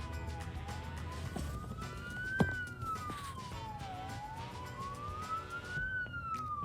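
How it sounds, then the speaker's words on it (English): A police car siren passing along Plenty Road, a steady wailing tone rising and falling over road traffic, moderately loud and fairly close, with no talking during it. "We can hear a siren coming from somewhere on Plenty Road, but oh, there it is, police car."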